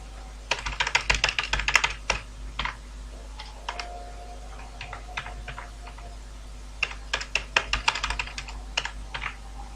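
Computer keyboard typing while coding HTML: bursts of quick, crisp key clicks in irregular rhythm with short pauses, close and alone without speech.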